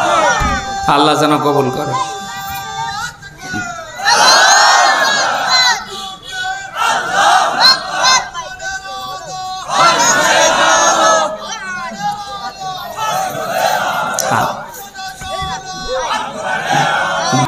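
Large crowd at a Bangladeshi Islamic gathering roaring a chanted response to a takbir call, loud surging voices in repeated bursts over a reverberant hall, with a speaker's amplified voice between them.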